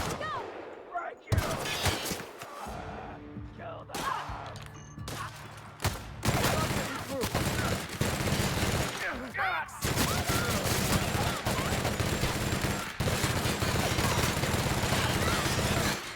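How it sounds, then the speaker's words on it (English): A light machine gun fires in the video game The Outer Worlds, with loud, dense bursts of rapid automatic fire broken by short pauses early on, then long sustained volleys. "this light machine gun does not bring the damage"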